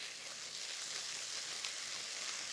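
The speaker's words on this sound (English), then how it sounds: "we're going to add some chopped garlic and some chopped ginger" Chopped garlic and ginger sizzle in a hot pan with a steady, bright, crackling hiss. It is fairly quiet and continuous, with no voices over it.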